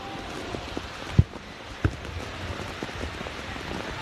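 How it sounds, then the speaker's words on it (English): Rain falls steadily at the Larry Gomes football stadium, a dense, even hiss with two sharp thuds early on and no talk. "it's starting to rain again here at Larry Gomes."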